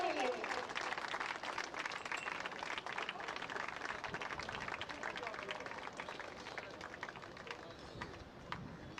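Loud, sustained clapping from a crowd at a women's state championship match in Jodhpur, saluting the tricolour flag, dense and continuous for several seconds with no spoken words.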